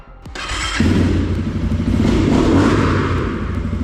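A Rottor Nemesis 250 motorcycle engine starts with a thump and then runs steadily nearby, a loud, continuous rumbling idle with slight clatter, heard alone without talk.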